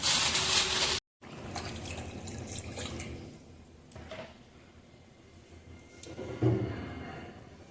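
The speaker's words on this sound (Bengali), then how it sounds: "এদিকে পাস্তা জল ঝরতে দেওয়া আছে, জলটা ঝরুক" Water runs and drains from freshly boiled pasta in a home kitchen for white sauce pasta, a loud rushing pour at first, then a quieter trickle and drips with a few soft clatters of a pot or colander.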